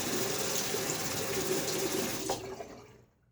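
Tap water runs steadily into a sink for a rinse after a wet shave, a close, even gush that cuts off near the end and leaves silence.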